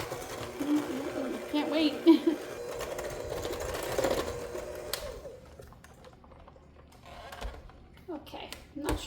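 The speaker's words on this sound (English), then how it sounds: "just gonna mix that now" An electric mixer whirs through pumpkin chocolate chip oatmeal cookie dough, a moderate, steady motor hum for about five seconds before it stops. A voice speaks briefly over it.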